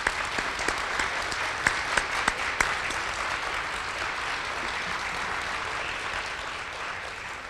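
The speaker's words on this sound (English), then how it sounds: "I'd ask you to join me in giving our speakers a big round of applause" Audience applause at a community economic forum, a dense patter of clapping with a few sharp claps early on, steady and moderately distant, fading slightly at the end.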